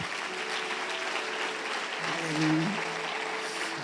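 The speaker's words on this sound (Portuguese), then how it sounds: "Dê uma salva de palmas ao Senhor." A church congregation claps together in sustained applause during a worship service, a steady broadband patter with sustained musical tones or voices underneath, swelling briefly near the middle.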